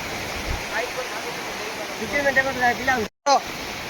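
Water overflowing at the Tangankana water pull, a steady rushing broadband wash running throughout, with people talking over it and a brief dropout near the end.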